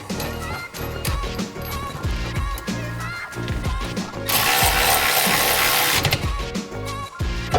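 Ratchet tightening the bolts of a brake caliper on a Mustang, loud close clicking strokes in steady runs, followed by a sustained burst of harsh metallic rattling before more ratcheting.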